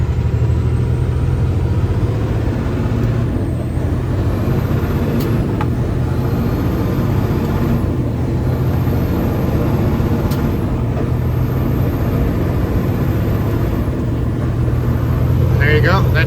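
Commercial truck bobtailing without a trailer, a loud steady diesel engine drone inside the cab with rising and falling revs as it shifts through gears, a few clicks, and a person talking over it at times.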